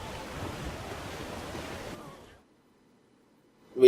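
Ocean waves crash against a sailing ship in the video game Assassin's Creed IV Black Flag, a dense roar of surf and wind that cuts off abruptly, leaving near silence before a short loud burst.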